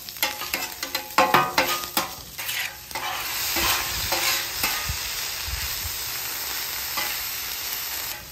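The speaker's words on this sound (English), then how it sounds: "At this stage, I'm looking to cook the onions and the peppers in with the ground beef until they're broken down." Ground beef cooks with onions and peppers in a pan for a sloppy joe, sizzling steadily while a utensil stirs and scrapes through the mixture, busy at first and then settling into an even fry.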